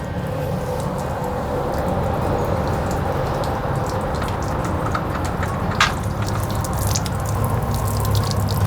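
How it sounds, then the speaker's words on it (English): Water drains steadily from the fresh water tank of a Lakota living quarters horse trailer through a low-point drain, a continuous close splashing trickle with scattered drips, no talk. "And now we'll be draining the fresh water tank."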